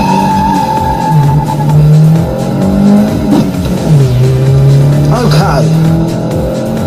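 A race car speeds around a track, its engine revving up and down through the gears and its tires squealing in short bursts, loud and close, while someone speaks briefly over it.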